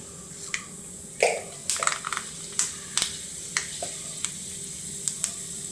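Mustard seeds and a few fenugreek seeds in hot oil in a home kitchen, sizzling steadily with scattered sharp pops and crackles of the seeds bursting, close up and with no talking.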